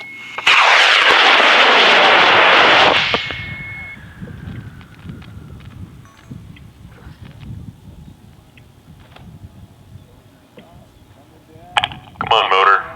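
An I-211 white model rocket motor ignites with a loud roaring hiss lasting about three seconds before fading, then the ground crew chatters and cheers at the launch site.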